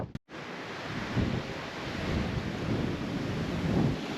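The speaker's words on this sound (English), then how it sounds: "And it's really windy up here." Strong wind roars steadily across the microphone at the Grassy Hill lookout near Cooktown, a loud continuous buffeting rush with gusts swelling, after a brief cut at the start.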